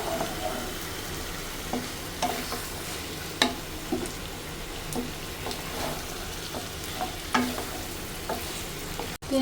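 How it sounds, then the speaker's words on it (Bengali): Meat sautés in a pan with a steady, moderate sizzle, and a spoon stirs and scrapes it at irregular intervals. "আবার একটু মাংসটা ভেজে দিলাম"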